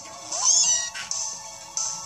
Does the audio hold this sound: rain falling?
no